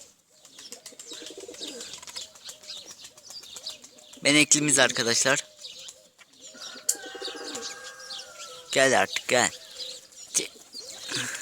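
Pigeons coo at a loft where birds are being flown, a soft murmur of calls running beneath someone talking, with a couple of louder bursts of his voice breaking over them.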